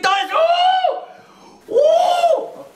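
A man yells twice straight at the camera, each drawn-out cry loud and close, with a brief pause between them.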